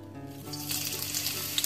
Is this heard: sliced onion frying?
yes